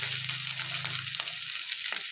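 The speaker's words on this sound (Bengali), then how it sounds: "কিছুটা ফ্রাইড রাইসের মতন হয়ে যাচ্ছে আজকে আমার ভাত ভাজাটা" Cooked rice with a little sugar frying in a pan, turning into a fried-rice style dish: a steady, close hiss of sizzling oil with faint stirring scrapes, and no voices.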